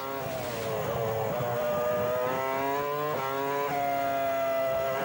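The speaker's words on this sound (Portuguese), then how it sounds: "É fantástico o barulho do motor, né?" A Formula One car engine at the Monaco Grand Prix screams at high revs, its pitch climbing and then dropping sharply at a couple of gear changes, loud and close.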